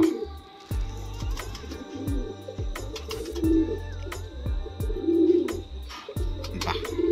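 Madrasi pigeons coo close by in repeated low, rolling phrases, a steady run of deep coos with faint chirps and clicks in the background.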